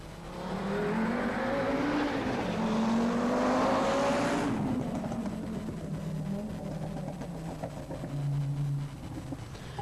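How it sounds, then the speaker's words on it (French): A 1983 Audi Quattro rally car drives during reconnaissance for the Monte-Carlo Rally, its engine loud and close as it revs and climbs through the gears, then eases to a lower rumble as it moves off. "c'est l'Audi Quattro. Cette Audi, la voici, surprise pendant les reconnaissances"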